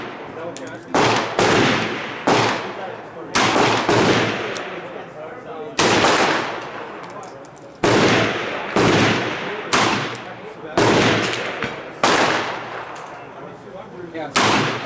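Revolver shots ring out at an outdoor shooting range, about a dozen loud, sharp reports spaced roughly a second apart, each followed by a brief decaying echo.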